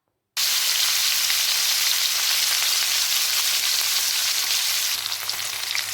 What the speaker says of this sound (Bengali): তেল গরম হয়ে গিয়েছে, আর আমি এখন তেলের মধ্যে ছেড়ে দিচ্ছি ম্যারিনেট করে রাখা পনিরের টুকরোগুলো